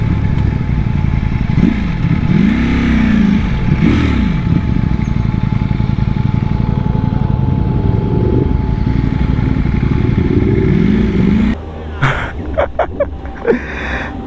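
A Ducati Panigale V4 sport motorcycle on a Sunday morning group ride runs with a loud, steady close-up engine drone, several rising and falling rev sweeps, then a rougher, clattering stretch near the end.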